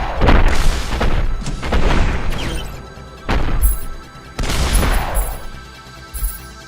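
Rocket explosions in the retro shooter I, AI: four heavy booming blasts with crashing debris, each swelling and then trailing off, loud and close with short gaps between them.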